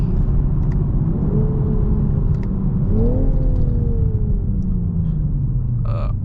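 A BMW M340i drives in the rain, heard from inside as a loud, steady engine rumble with rising and falling gear tones as it accelerates, plus a few faint ticks and clicks in the cabin.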